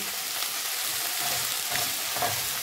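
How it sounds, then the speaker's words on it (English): Beef, potatoes and carrots stir frying in a pan, a constant loud sizzle with a few muffled scrapes as the pieces are turned. "I stir fry for a minute. I add in the carrots."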